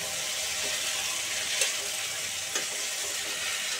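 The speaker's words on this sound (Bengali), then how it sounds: "মিডিয়াম আঁচে আলু কুমড়োটাকে ভাজা ভাজা করতে হবে।" Potato and pumpkin pieces fry over medium heat in a pan, giving a soft, even sizzle with a couple of brief stirring scrapes, close and fairly quiet with no speech.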